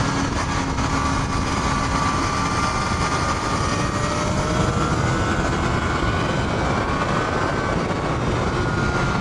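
A Kawasaki ZX-4RR screams at high revs on a race circuit in a loud, continuous, sustained high-pitched whine mixed with heavy wind rush.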